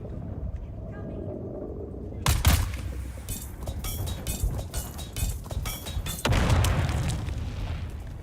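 A grenade explodes in the video game Dune with a sharp broadband boom, followed by scattered clinks, pops and gunfire-like bursts, then a second heavy blast near the end.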